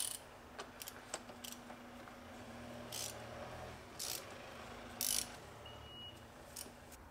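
A ratchet with a 36 mm socket loosens a car's oil filter, giving quiet, close clicking in short scattered bursts against a faint background hum, with no talking.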